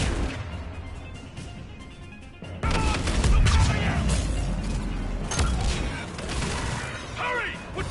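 Continuous battle noise from the video game Mass Effect Legendary Edition, with gunfire, booms and crashes in a dense, loud mix that swells after a quieter opening.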